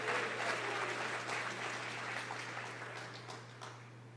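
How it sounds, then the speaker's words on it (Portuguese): A church congregation claps together, a dense burst of applause over a steady low electrical hum, fading gradually toward the end. "Quem pode aplaudir ao Senhor?"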